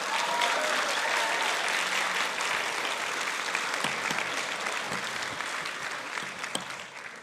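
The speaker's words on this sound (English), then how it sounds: "So let's give ourselves a round of applause." Graduation audience at a master's ceremony applauding, dense sustained clapping from a large crowd filling the room, slowly fading toward the end.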